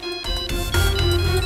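A phone rings with an incoming call, a loud electronic ringtone melody playing on its own, its tones shifting partway through with a fuller low layer joining in.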